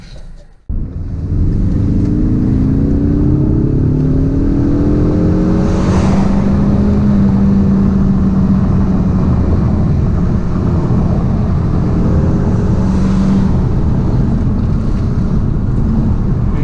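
A 2017 Ford Mustang EcoBoost sports coupe accelerates steadily, its engine drone rising in pitch through the gears, heard from inside the car under heavy, constant road and wind rush with no one talking.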